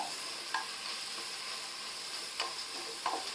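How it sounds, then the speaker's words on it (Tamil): Chopped onion sautés with whole garam masala in a pan for Hyderabadi chicken dum biryani, giving a continuous close sizzle with a few sharp spatula taps and scrapes. "இப்போ நம்ம வெட்டி வச்சிருக்கிற ஒரு பெரிய வெங்காயம் சேர்த்துக்கலாம் இதை நல்லா வதக்கிக்குவோம்"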